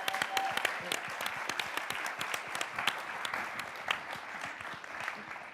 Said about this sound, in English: clap it up for yourselves and clap it up for our panelists.